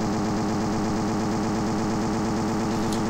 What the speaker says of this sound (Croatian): Čini mi se da neki defaultni zvuk motora.